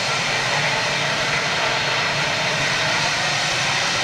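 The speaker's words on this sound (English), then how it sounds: "RB211 power, here we go. Should be a twin spooler." Jet airliner with twin-spool Rolls-Royce RB211 engines taking off at Manchester, a steady broadband roar holding loud and even throughout, with no talk over it.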